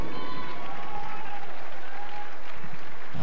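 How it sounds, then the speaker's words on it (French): Arena crowd applauding the six finalists of a 1500 m short track speed skating Olympic trials race, a loud, dense burst of clapping and cheering with a voice over the public address. "Mesdames et messieurs, une bonne main d'applaudissements pour nos six finalistes."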